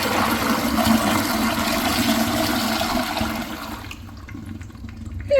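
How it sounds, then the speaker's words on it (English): A Valvo blowout toilet, a type that relies on strong water pressure, flushes with a loud, close rush of water for about four seconds, then cuts off sharply to near quiet with faint trickling. "Let's have a look at a flush."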